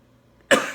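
A single sharp cough from a man smoking, sudden and close after a brief silence, trailing off into a rough breath.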